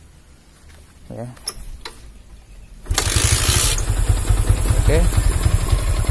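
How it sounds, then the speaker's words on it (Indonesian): A Yamaha Vixion motorcycle with a starting fault cranks with its kick and electric starters, then catches and roars into a loud, steady close-up run after a few seconds of quieter fiddling and brief talk. "Sekarang coba saya engkol double starter, dia masih nggak mau"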